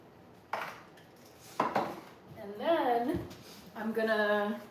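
Kitchen dishes and utensils are put away in a home kitchen: a few sharp clinks and clatters near the start, followed by someone talking.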